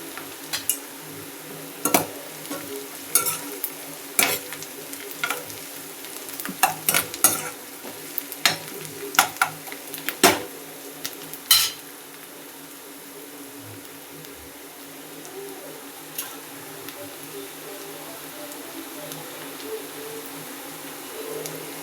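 Green chillies fry in a pan, with a steady soft sizzle under repeated scraping and clinking from a stirring spoon that fades toward the end.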